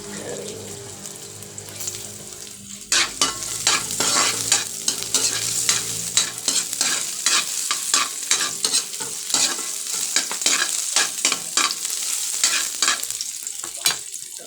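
Ginger sautés in a frying pan for ginisang upo, a steady close sizzle broken by repeated sharp scrapes and clacks of a utensil stirring, with no talking.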